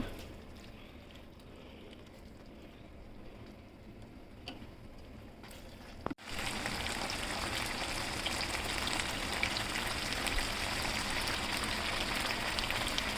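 Boiled beef being fried in spice masala for a restaurant-style beef sizzling dish, heard as a fairly quiet start, then a sudden clunk and a loud, steady, close-up sizzle for the rest.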